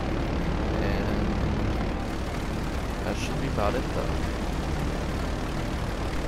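Constant droning airplane engine in flight in the GTA Online video game, a dense steady roar with wind noise throughout, while someone talks over it.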